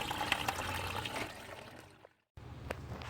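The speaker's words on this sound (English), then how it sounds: "I'm back flushing the drain from the aircon here and getting all the shit out" Water is back-flushed through the air-conditioning evaporator drain of a Mitsubishi Pajero, a close, gurgling trickle and splash that briefly cuts out before resuming.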